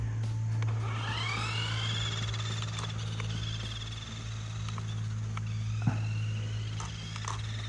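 A 1/18 scale short course RC truck with a 260 brushed motor runs on macadam, its faint rising electric whine sweeping up and fading as it speeds away, over a steady low hum with a sharp click near the end.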